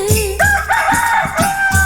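A rooster crows within a Tamil folk-style song about village life with goats and hens, its loud drawn-out calls repeating several times under sung vocals and music.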